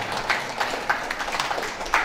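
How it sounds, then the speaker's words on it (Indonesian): An audience applauds at an orphanage anniversary celebration, with scattered, uneven claps forming a moderate, continuous patter throughout. "kita beri tepuk tangan lagi untuk Pak Johan Darmawan."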